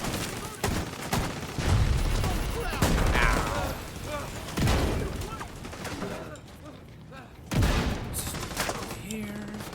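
Rapid automatic gunfire from a deployable turret in the video game The Division 2, bursts of shots and booms repeating throughout, with louder volleys near the start and middle and a voice briefly talking.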